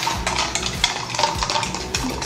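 A fork stirs a matcha drink in a cup, giving fast, continuous clinking and scraping close up, with soft rhythmic thumps underneath.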